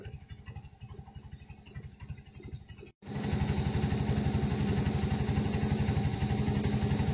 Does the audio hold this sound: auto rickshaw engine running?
yes